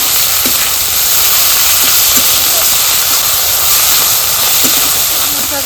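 Spices sizzle loudly in a pan while aloo posto is cooked, a dense, steady hiss that fills the whole stretch, with a few faint utensil taps underneath.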